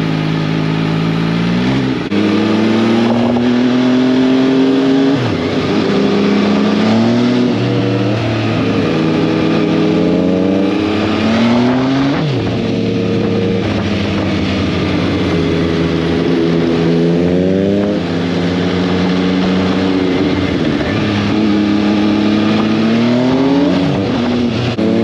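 An MV Agusta 800 Dragster RR motorcycle accelerates hard through several gears, each rising engine pitch broken by a quick drop at the shift. The roar is loud, close and continuous, with no talk over it.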